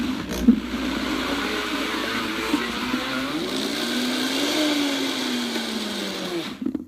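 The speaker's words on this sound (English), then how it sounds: "almonds blended" A kitchen blender grinds almonds for no-bake peanut butter energy bars, running in one steady, loud whir for several seconds with a slowly shifting pitch before cutting off at the end.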